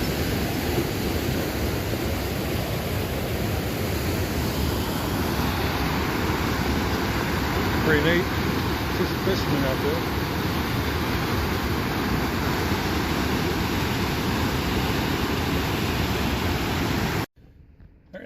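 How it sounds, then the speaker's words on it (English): Water rushes loudly and steadily beside an old dam, a dense roar that fills the whole stretch and nearly buries a man's brief remark before cutting off near the end. "It's probably going to be hard to hear me because that water is so loud."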